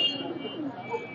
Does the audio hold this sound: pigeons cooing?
yes